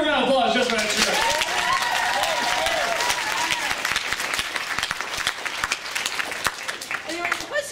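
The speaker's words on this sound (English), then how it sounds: "Give her a round of applause just for that shirt." An anime convention audience claps and cheers loudly at first, the applause thinning and fading over several seconds as a voice starts talking underneath.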